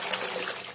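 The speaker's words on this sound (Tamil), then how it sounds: "கொஞ்சம் மஞ்சள் கொஞ்சம் உப்பு போட்டு அன்ன கொடியில தண்ணி ஊத்தி நல்லா வந்து இதை வந்து அலசிக்கலாம்" Water splashes and trickles steadily over cluster beans being rinsed with turmeric and salt, a continuous close wash with no talking.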